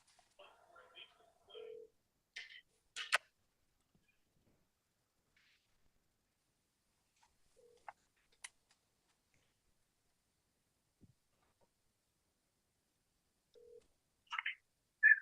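A phone number is dialed on a telephone, sparse short electronic tone blips scattered across a mostly quiet stretch, close and fairly faint, with brief bits of voice.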